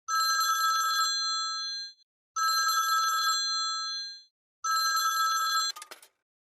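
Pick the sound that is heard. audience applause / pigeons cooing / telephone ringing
telephone ringing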